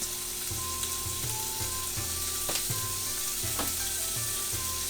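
Pork sizzles and fries steadily in a pan for stir-fried udon, a continuous close crackle with faint scraping stirs at regular intervals.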